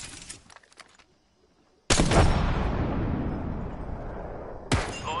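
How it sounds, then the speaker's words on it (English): A frag grenade detonates in a video game, a sudden loud blast with a long rumbling decay lasting about three seconds, followed by another sharp burst near the end. "Throwing frag."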